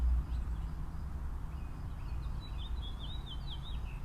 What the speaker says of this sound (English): you can just listen to the birds